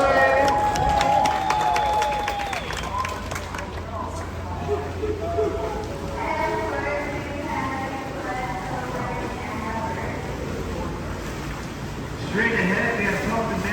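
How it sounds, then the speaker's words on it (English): River boat passengers on a San Antonio tour cheer and applaud for a birthday: a loud burst of crowd noise and clapping at the start, dying down into mixed chatter with a guide's voice, then another brief swell. "followed by a round of applause"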